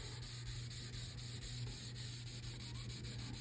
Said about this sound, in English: I like to do straight line sanding instead of circular motions